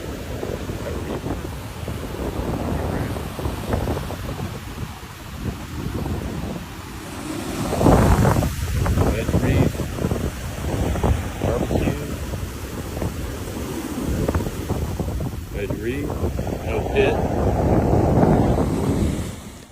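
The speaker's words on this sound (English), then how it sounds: "rocks tumbled from sections of the jetty as relentless waves pounded the structure" Surging ocean waves break and pound against a rock jetty during a heavy swell, with gusty wind buffeting the microphone in rolling, uneven bursts and faint voices now and then.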